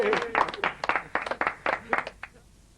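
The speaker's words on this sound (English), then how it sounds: "Give her a round of applause for helping." Small audience claps for a helper at a magic show, a brief scattered round of applause that is close and fairly light, fading within three seconds.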